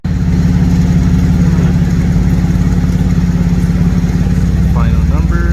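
Infiniti Q50 with a turbocharged VR30 engine running on a dyno with cutout valves open gives a loud, close, steady pulsing exhaust drone with an audible turbo, and a brief voice-like chirp near the end.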